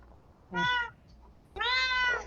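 Two drawn-out meows spaced about a second apart are voiced by a person imitating a cat, close and clear against a quiet background.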